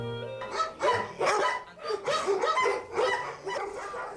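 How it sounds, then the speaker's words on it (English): A Pekingese dog barking repeatedly, a steady series of about eight sharp, close yaps in quick rhythm with no talking. "This is the Pekingese dog that was so loved by the Empress Cixi."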